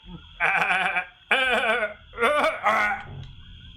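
A person imitates a goat bleating, giving four drawn-out, wavering bleats in a row with short gaps between them, close and clear.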